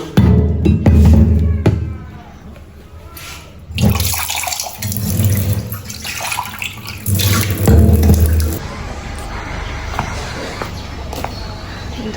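Water runs and splashes steadily as a village house is washed down, loud and close, with surges and brief lulls and some faint movement around it.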